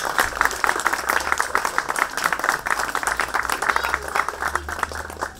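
Audience applause for a young illustrator at a festival, steady dense clapping from a crowd lasting throughout, with no voices over it.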